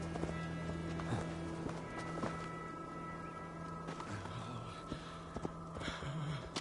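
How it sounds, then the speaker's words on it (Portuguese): Horse hooves clip-clop steadily in Assassin's Creed Valhalla, a continuous walking rhythm at moderate distance over a busy ambient game soundscape with a brief whinny-like tone. "Ah, é, vi um cavalo."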